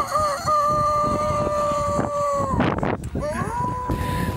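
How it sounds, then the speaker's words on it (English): Rooster crowing before dawn at a camp on Kilimanjaro, long drawn-out calls carried over steady wind noise and background murmur, moderately distant rather than right at the microphone. "We just heard the cock crow."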